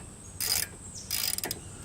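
A ratchet tightens 14 mm bolts on the brakes of a 2009 Jeep Patriot Sport during a brake pad replacement, giving two short, quiet bursts of rapid clicking close by, with no talking.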